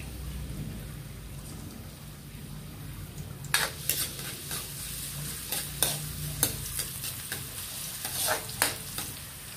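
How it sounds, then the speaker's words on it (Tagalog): Garlic sautéing in cooking oil, a quiet sizzle with a low background rumble. Sharp scraping and clicking from a spatula or pan break in at irregular intervals from a few seconds in. "Ilagay na ako ng mantika. Igisa ko na yung bawang."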